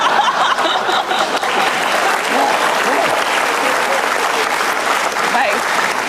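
A studio audience on an Indonesian talk show breaks into loud, sustained applause that fills the room, with scattered chuckles mixed into the clapping.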